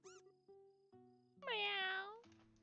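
Cat meowing in the video game Trails in the Sky: one loud, drawn-out meow stands out in the middle, with softer short mews and quiet game tones around it and no talking.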